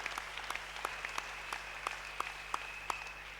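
Scattered claps ring out over a steady hum, a few distinct sharp hits standing above a soft wash of applause from a church congregation at a Wednesday evening service.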